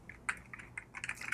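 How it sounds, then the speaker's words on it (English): Typing on a computer keyboard while entering link text for a Bootstrap 5 web template footer, a quick uneven run of close, crisp key clicks over about a second and a half, with no voices. "Let's type here something like item."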